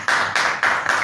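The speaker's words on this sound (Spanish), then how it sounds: "aplaudirlo ahora sí" An audience at a talk applauds a speaker in a short, loud burst of clapping that pulses in an even rhythm of about four beats.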